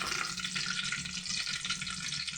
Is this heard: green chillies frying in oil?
yes